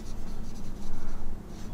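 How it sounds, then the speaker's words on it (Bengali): Pen writing on paper while working a solid geometry math problem, a steady continuous scratching of strokes close by, mostly alone with little or no talk. "এগুলাকে লিখে নেই, তাই না? লিখি যে"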